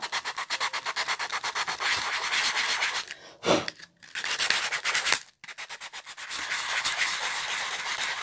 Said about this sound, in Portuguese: esfregar aqui e vai tirar o desenho